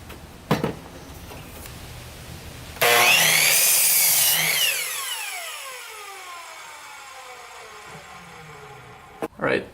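A power saw cuts a 2x4 stud for a door header in a garage workshop: one loud, short cut, then the blade whines as it winds down, with a few knocks before and after.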